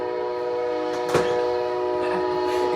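An Amtrak train passes through downtown Hattiesburg, its horn holding a loud, steady blare for the whole stretch, with a few brief bursts of rumbling noise from the passing cars.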